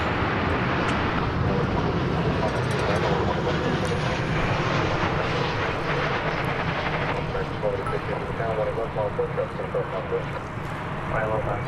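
Breeze Airways Boeing 737-800 jet at DFW Airport, a loud continuous engine roar that holds steady across the whole stretch, with people talking over it.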